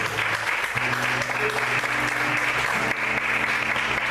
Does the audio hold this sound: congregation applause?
yes